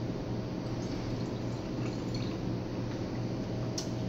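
Water is poured into a laboratory flask for a titration, a steady broadband liquid rush lasting several seconds, close and continuous with no voices.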